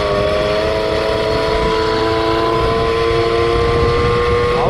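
An MBK 40 'Flèche d'Argent' moped engine runs at high revs, a loud, close, steady buzzing drone that climbs slightly in pitch near the end.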